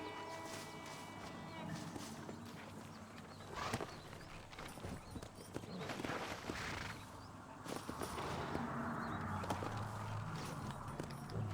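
Horse hooves clip-clopping in Red Dead Redemption, the steps steady under game ambience and a voice talking, with a possible brief whinny.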